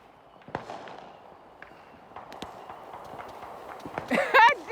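New Year fireworks rocket going off, heard as scattered sharp pops and crackles at a distance, building to a louder crackling burst near the end, with people talking over it.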